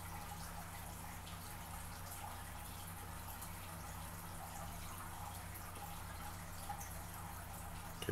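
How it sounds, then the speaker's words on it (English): Large aquarium running indoors, a faint steady trickle and hum of water with light drips, continuous and unchanging in the background. "I have a large aquarium running."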